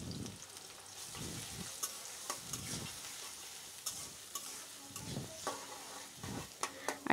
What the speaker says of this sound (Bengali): এতো আমি পেঁয়াজ দিয়ে দিলাম।